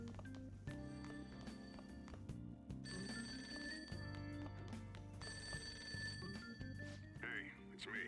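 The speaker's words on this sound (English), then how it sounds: "Ringing sound isn't coming from my cell phone." A telephone rings from downstairs in Persona 5 Royal, its bell trilling in repeated bursts over steady game music, fairly quiet and distant.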